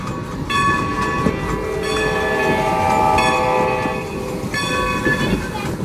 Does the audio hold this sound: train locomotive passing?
yes